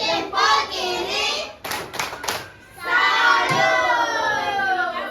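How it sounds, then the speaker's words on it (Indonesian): A classroom of students clapping their hands for a group, rhythmic patterned claps mixed with young voices chanting along, lively and close. "Kita beri dulu tepuk tangan untuk kelompok Eropa"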